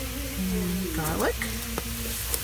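Ground meat with dehydrated onion and garlic sizzles in a pan, a steady, moderate hiss running underneath a voice and a few light clicks.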